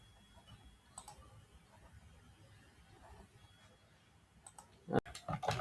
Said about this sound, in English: We'll just click here.